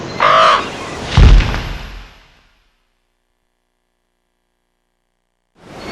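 Several crows caw loudly and close by in two harsh bursts over a windy coastal island at Land's End, followed by a long silence before a faint new sound begins.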